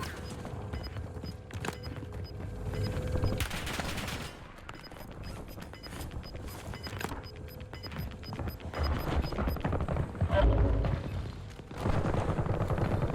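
Sniper rifle shots ring out repeatedly in a Warzone match, sharp cracks scattered across a busy, dense mix of game noise, with several louder bursts standing out.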